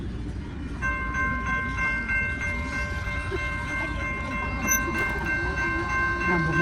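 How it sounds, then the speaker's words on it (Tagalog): A train passes near the convention center in San Diego, California, with a steady rolling rumble, faint clattering and sustained high tones, close and continuous. "Ay, may train, may train."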